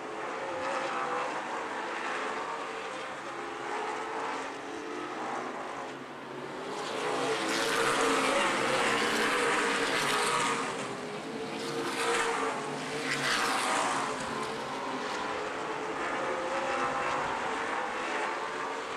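Race cars in a feature race at Angola Motorsport Speedway roar around the oval at a distance, the engine noise swelling and fading in waves as the pack passes, loud and continuous.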